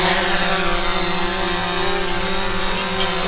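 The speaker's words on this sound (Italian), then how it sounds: "con questo controller e un iPhone si vola e si vede quello che il drone vede dall'alto" A DJI drone hovering nearby, its propellers producing a loud, steady, high-pitched buzzing whine that holds constant throughout.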